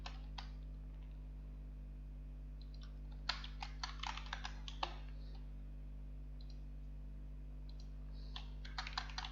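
Keys on a computer keyboard click in quick bursts as text is typed into a 3D animation program, close and fairly quiet, with pauses between the runs of keystrokes over a steady low electrical hum.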